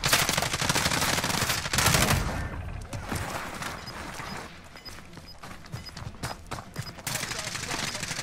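Gunfire in a multiplayer shooter game, bursts of rapid automatic shots in dense stretches at the start and end with scattered single shots between, while players talk over the action.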